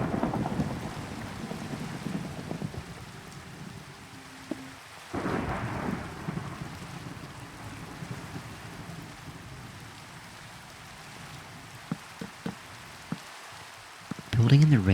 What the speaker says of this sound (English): Building in the rain is low-key kind of relaxing.